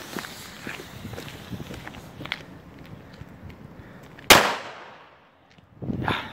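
A single sharp, loud bang from a Funke A-Böller firecracker cuts through outdoor shuffling and footsteps, its blast trailing off into a brief silence.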